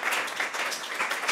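Small audience clapping for the band Belafonte Sensacional, a brief, moderately loud burst of steady applause heard close by.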